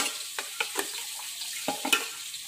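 Pork pieces frying in a pan, a steady close sizzle broken by sharp stirring scrapes and clatters, with no voices.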